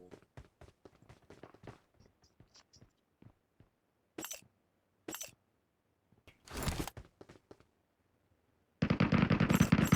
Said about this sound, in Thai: เขายิงกันตรงนี้ไง